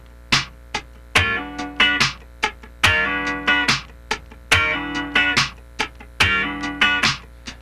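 Funk rhythm guitar played with a muted, floating right hand while the left hand slides, producing a tight syncopated pattern of short percussive chord stabs and scratches, close and punchy with no talking.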